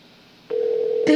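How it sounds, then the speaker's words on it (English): A telephone rings in the Sally Face video game: a single steady electronic tone starts abruptly after a quiet moment and is topped by a brief, brighter burst at the end. "Pick up the phone, Larry."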